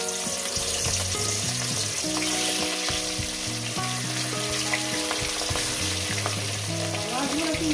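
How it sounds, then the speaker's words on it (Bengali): Catla fish pieces frying in hot oil give a loud, continuous sizzle with dense crackling throughout, close up and alone, with a few clinking stir-like knocks underneath. "আমার তেলটা গরম হয়ে গেছে। আমি এক এক করে মাছগুলো দিয়ে দেব।"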